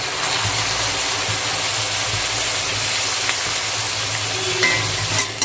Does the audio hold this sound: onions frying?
yes